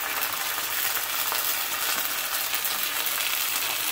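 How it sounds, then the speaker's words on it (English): Ginger and garlic sizzling in hot oil across three balti pans, a loud, dense crackling hiss that runs continuously and close up, with faint clinks of stirring and no voices. "So we just want to sizzle the raw flavours from that ginger and garlic in all 3 of the pans."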